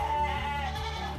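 A goat bleats on a small goat farm in Alas Tuwo, Karanganyar, a single near call held for about a second against a faint background hum.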